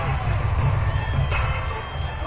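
Loud, continuous roar of the home crowd at a Seahawks versus 49ers football game, a thick, steady stadium wash with scattered shouts rising within it.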